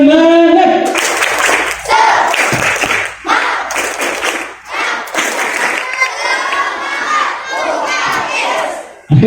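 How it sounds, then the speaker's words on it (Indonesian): A crowd of students in a school gathering perform a loud rhythmic clapping chant, bursts of claps mixed with shouted voices in unison, close and energetic, ending abruptly. "Saya mau dengar tepuk semangat dulu pagi hari ini."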